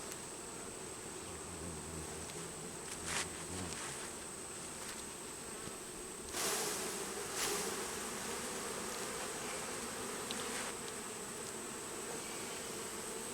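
Honey bees buzz around a beehive in a continuous, fairly quiet drone, broken only by a few brief knocks and rustles.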